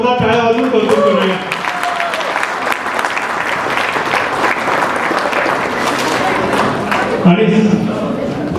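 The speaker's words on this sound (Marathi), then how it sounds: "या दोघांचाही आपण जोरदार टाळ्या वाजवून कौतुक करूया" An audience claps loudly and steadily at a children's program, with dense applause filling the space for several seconds and a voice audible at the start and end.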